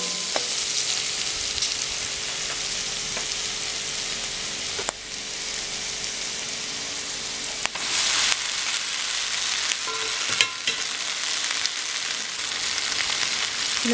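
Vegetable noodles with pepper fry in a pan with a steady, close sizzle, and a few brief sharp clicks from stirring break through along the way.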